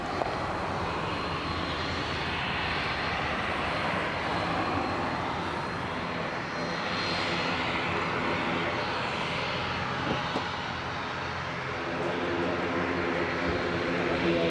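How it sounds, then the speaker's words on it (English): An Aer Lingus airliner lines up on the runway at Leeds Bradford Airport, its engines giving a steady, broad roar that holds level and loud throughout, with no voices. "The Aer Lingus is just lining up there now."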